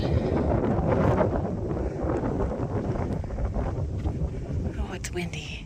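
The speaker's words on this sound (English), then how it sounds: "Oh, it's windy." Strong wind in Hibbing, Minnesota buffets the microphone with low rumbling gusts that rise and ease, a bit of higher rustle near the end.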